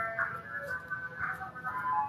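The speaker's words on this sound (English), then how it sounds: "I think it's the ice cream truck." An ice cream truck passing outside plays a faint, distant jingle, its repeating melody drifting in from afar.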